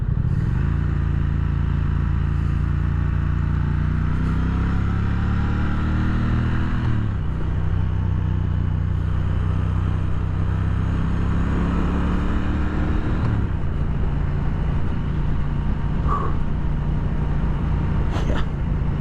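A 2017 Triumph Thruxton R motorcycle engine drones steadily close up while riding, its pitch rising through the gears and dropping at shifts around seven and thirteen seconds, loud and continuous with no talk.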